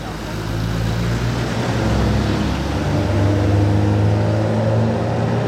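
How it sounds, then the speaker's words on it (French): A deep, smooth V12 car engine hums at steady idle, a low droning rumble close by with slight swells in pitch. "Allez, écoutez ce V12 là, ce doux V12."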